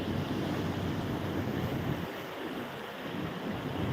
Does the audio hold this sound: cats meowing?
no